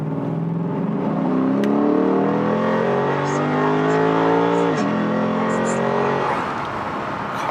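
A heavy Lexus RC F accelerates hard through a full-throttle pull, its engine note rising steadily in pitch through a gear, dropping at a shift, then climbing again, loud and close from inside the car.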